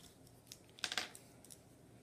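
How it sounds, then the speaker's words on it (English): A pen writes on paper, making a quick cluster of scratchy, close strokes near the middle with a few lighter taps around it, quiet and alone. "I just want to write that down."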